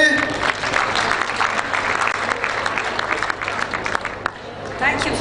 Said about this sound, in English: Let's clap hands for UN family.